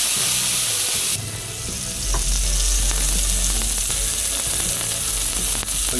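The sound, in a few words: tuna steak searing in a cast iron pan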